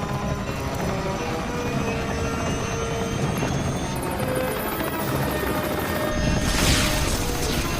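A helicopter with a failing rotor in a disaster movie scene produces a dense, steady rotor and turbine roar throughout, with a brief rising whine and a harsher burst near the end.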